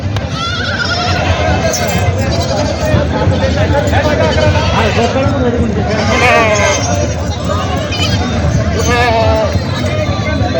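Several goats bleat repeatedly amid the crowd babble of a village goat market in Vasmat, Hingoli district, wavering cries near and far blending with constant talking voices.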